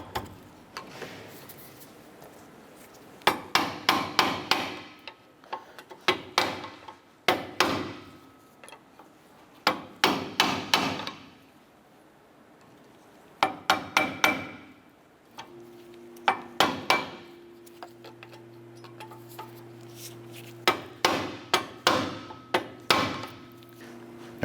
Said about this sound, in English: use our pry bar and tap the brake pad backing plate